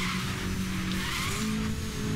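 Lancia Delta Integrale in Need for Speed Most Wanted (2012), engine droning steadily and loud throughout, with tires squealing and skidding as the rally car slides through a corner.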